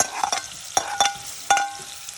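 Raw mango pieces scraped and stirred with a spoon through about two spoonfuls of hot oil and tempering for a pickle: three or four sharp, close stirring strokes over a low frying hiss, with no voices.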